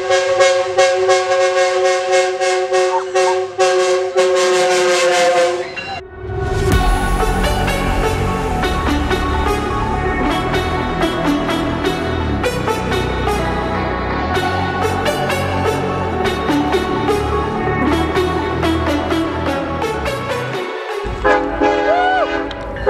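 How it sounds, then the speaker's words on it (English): A train rumbles past at close range at Cajon Pass while its horn blares in long, loud sustained blasts that come and go over the rolling noise of the cars. "Here comes another train."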